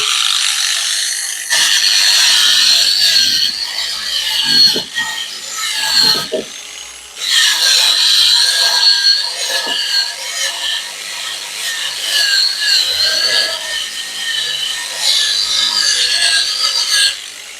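A power sander at low speed grinds and rasps against old wooden fencing with a rough, uneven scraping sound, pausing briefly a few times before continuing.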